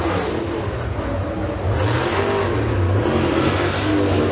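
A super late model race car runs a qualifying lap at Eriez Speedway, its engine a loud rising roar and drone passing nearby, revving up over a few seconds with no voices over it.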